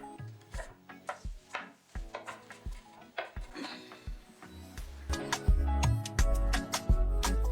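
A knife chops white onion on a cutting board in quick, close, sharp taps, irregular at first and then faster and denser toward the end.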